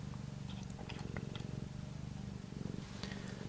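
A cat purring loudly and steadily up close, a continuous low rumbling throb with no talking over it.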